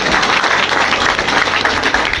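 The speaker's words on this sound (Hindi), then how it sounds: "एक बार ताली बजाओ" An audience claps together on request, a dense, loud burst of applause that stays steady throughout without fading.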